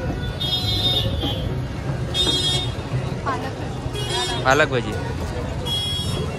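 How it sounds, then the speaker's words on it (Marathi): Busy street traffic in a crowded Mumbai market, with car horns tooting in short bursts over a steady engine rumble, while people chat nearby throughout. "ट्रॅफिक खूप झाली आहे गाड्यांची"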